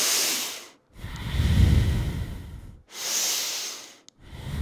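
Deep, slow breaths from yoga breath work, close and clear. A long airy exhale gives way to a fuller, rougher inhale, and the cycle repeats with short pauses between breaths.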